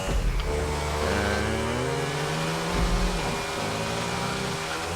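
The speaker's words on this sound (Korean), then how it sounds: "야, 역시 엔진의 경쾌함." A car engine revs in the video game GTA 5 Online during a race along railway tracks: a continuous, loud mechanical drone with shifting pitch that holds steady throughout.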